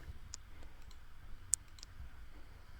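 A computer mouse clicking during work in Microsoft Excel, a few faint, close, isolated clicks with one sharper click, set against a quiet room hum.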